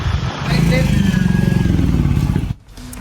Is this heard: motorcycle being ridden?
yes